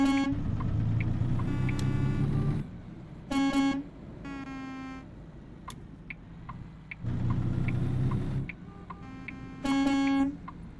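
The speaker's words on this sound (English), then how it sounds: "It's just like how we all honk at each other" Truck horns in American Truck Simulator honk in several long blasts and short toots, loud and near, over a steady rumbling engine drone.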